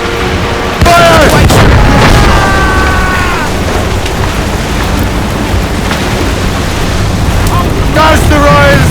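Naval cannon fire in Assassin's Creed Rogue: a heavy boom kicks off a loud, dense barrage of battle noise with further blasts and crackling under shouted voices and a music score.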